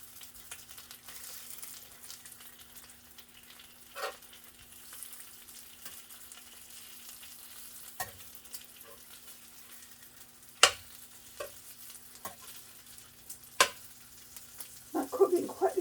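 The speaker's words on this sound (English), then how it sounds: "let me flip my bacon over once again." Bacon frying in a pan on the stove, a faint steady sizzle broken by a few sharp clicks and taps as the strips are turned, with the scraping growing busier near the end.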